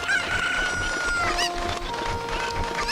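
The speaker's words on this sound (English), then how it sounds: "Come back to me, chicken." Chickens in the video game Zelda Ocarina of Time cluck and crow loudly over game music, the bird calls repeating in quick bursts up close.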